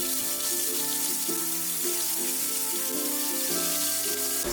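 Fish frying in hot mustard oil in a kadai gives a steady, bright sizzle that runs throughout, with a faint tonal background beneath it.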